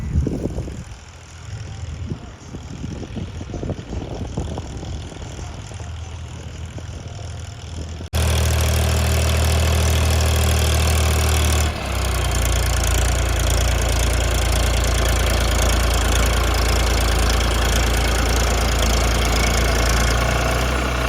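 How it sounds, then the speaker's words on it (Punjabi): A tractor engine idles with a deep, steady rumble that grows louder and fuller partway through, then keeps droning close by. No voices. "ਜੱਸਾ ਬਾਈ ਕਹਿੰਦਾ ਯਾਰ ਟਾਈਮ ਨਹੀਂ ਪਾਸ ਹੁੰਦਾ 10 ਮਿੰਟ ਟਰੈਕਟਰ ਚਲਾ ਲੈਂਦੇ ਆ"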